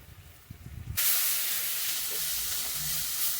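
Ginger garlic paste drops into a pan of softened onions and erupts into a loud, steady sizzle that holds to the end, after a brief stretch of quieter stirring.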